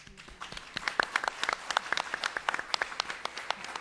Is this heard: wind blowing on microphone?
no